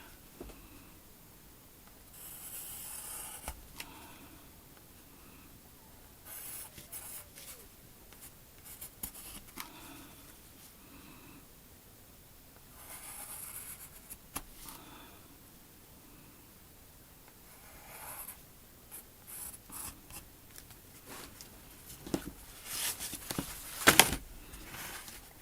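A pencil scratches on paper in soft, close strokes, some short and some sustained, coming in irregular bursts with quiet gaps and a few sharper marks near the end, with no talking.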